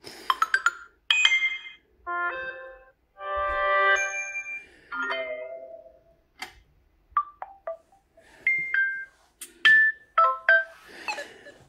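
A series of short bright electronic chimes and tones from a Samsung Galaxy A04s phone's notification sound in quick succession, clear and fairly loud, with brief silences between them.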